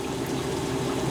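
Water runs steadily from a tap while a cast iron skillet is washed with a little soap, a constant close hiss with no pauses and no talking.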